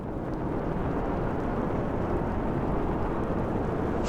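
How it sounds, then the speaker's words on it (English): A dense, rumbling atmospheric pad built in Pet Shop from granular sound fragments, a continuous dark wash of noise with no breaks, loud and even from start to finish. "and made this atmospheric pad."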